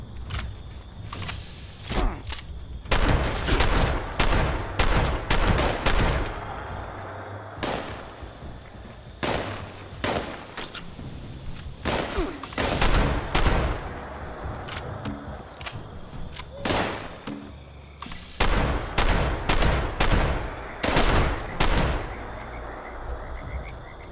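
Gunfire in Fallout 76: repeated sharp, loud shots come in uneven bursts and single cracks over roughly twenty-four seconds, with short pauses between volleys.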